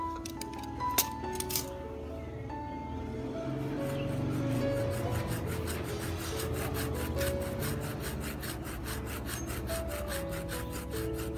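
A hand saw rasps back and forth through wood in a steady, rapid rhythm, close by, with a few light clinks at the start.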